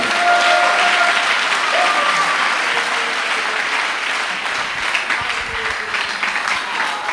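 A church congregation applauds in sustained, dense clapping that holds steady for the whole stretch, with faint voices and cheers mixed into the crowd.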